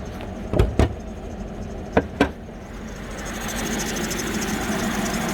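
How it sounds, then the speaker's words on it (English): A 2006 Buick Lucerne with a Northstar engine idles quietly and steadily, a low, even hum with a few brief clicks or knocks near the start and no one speaking. "Just very, very quiet engine."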